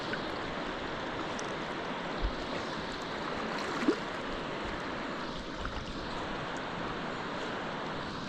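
Rushing river water with broken waves on a rapid, a steady dense wash that fills the whole clip with a couple of small splashy knocks, close and continuous, no voices.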